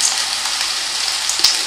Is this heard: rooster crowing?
no